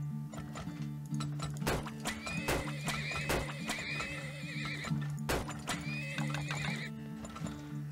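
Horses in the oil-drilling video game Turmoil, repeated neighs and whinnies over steady clip-clopping hooves, loud and close, with a constant game hum underneath.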